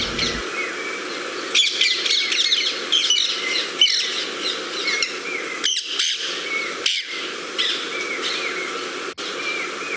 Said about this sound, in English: They are parakeets, not parrots. These are one of the most noisiest birds